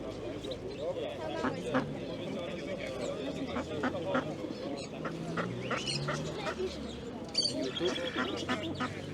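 Tumbler pigeons and other birds call amid the steady hubbub of a busy outdoor animal market in Rzeszów, with people chatting nearby throughout.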